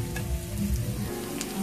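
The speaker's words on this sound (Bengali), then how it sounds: "পেঁয়াজ কুচি ক্যাপসিকাম কুচি দিয়ে আমরা ভালোভাবে নেড়ে নিচ্ছি।" Chopped onion and capsicum frying in refined oil, stirred in a pan, giving a continuous low sizzle and crackle with faint scraping, close and fairly quiet throughout.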